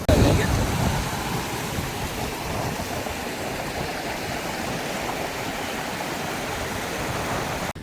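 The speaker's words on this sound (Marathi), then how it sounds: "आम्हाला छोटासा इथं झरा लागला आहे पाण्याचा आणि इतका भारी झरा आहे" Small stream in a dense Maharashtra forest, flowing steadily near the listener: continuous broadband rushing and burbling water at even loudness throughout, slightly louder at the very start, with no talk over it.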